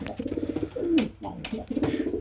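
Young pigeons in a loft coo close by, a soft rhythmic throaty burble repeating in a few phrases with gentle wing and shuffling sounds behind.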